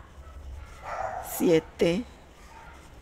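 A small female dog barks twice in quick succession, sharp and fairly close, under a voice speaking Spanish.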